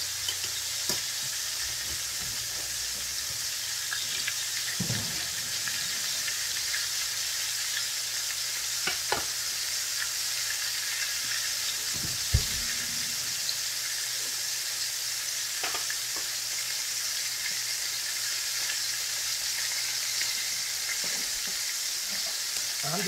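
Oyster mushrooms fry in a pan with a constant, close oil sizzle and hiss, broken by a few soft clicks and thumps of a utensil moving them around.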